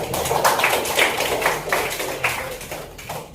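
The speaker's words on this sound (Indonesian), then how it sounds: "Tepuk tangan." Students in a grade 10 Islamic ethics classroom give a short round of applause, several quick bursts of hand clapping that rise and fade over a few seconds with no talking.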